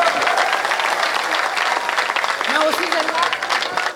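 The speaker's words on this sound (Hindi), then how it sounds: "एक बार जोरदार तालियां बजाओ।" An audience at a Hindi comedy show bursts into loud, sustained applause, dense clapping throughout with a brief voice underneath near the end.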